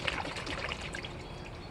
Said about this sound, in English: Let that all drain out.